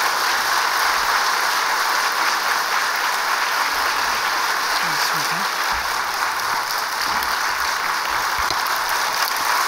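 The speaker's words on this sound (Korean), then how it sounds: "큰 박수로 한번 환영하시면서 말씀을 기다리겠습니다" Congregation in a church giving loud, sustained applause to welcome the pastor to the pulpit at a special early-morning prayer service, a dense even wash of clapping lasting throughout.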